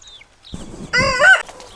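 Chickens and hens, including naked neck birds, clucking in a farmyard under a tree: a few faint chirps, then a loud, close burst of harmonic clucking squawks lasting about half a second, with no talking.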